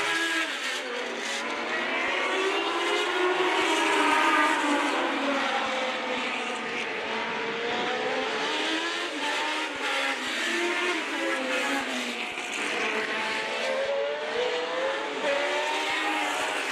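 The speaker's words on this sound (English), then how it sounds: "Lauber in that 78 Wolf WR6." A 1978 Wolf WR6 Formula race car, ex-Jody Scheckter, racing in a historic Formula event, with loud, high engine wail rising and falling through gear changes as other cars join, continuous throughout.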